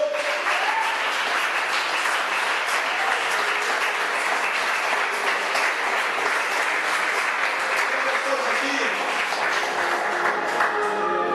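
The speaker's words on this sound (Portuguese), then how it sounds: "aplauda o Rei da Glória nesta noite" A church congregation claps together during an evening worship service, sustained, fairly loud applause with a faint background tone and occasional sharper individual claps, no talking over it.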